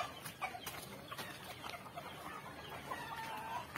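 Native chickens clucking on a small farm, soft scattered clucks and chirps at a moderate distance over a steady hiss, no people speaking.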